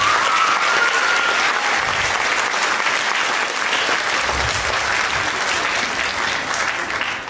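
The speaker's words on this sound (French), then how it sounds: "on peut applaudir encore une fois" Loud, steady applause from the audience at a school music concert, a thick wash of many hands clapping for the full length.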